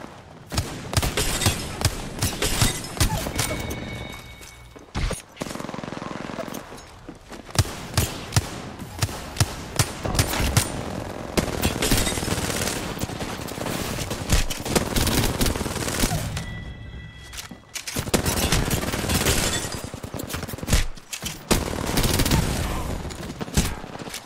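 Gunfire in a shooter video game, dense rapid bursts of shots rattling close and loud across the whole span, broken by a few brief lulls, with no talk over them.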